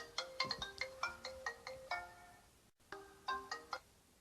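A mobile phone ringtone plays a bright, repeating electronic melody of quick chiming notes, stops briefly, then starts again, heard faintly and alone.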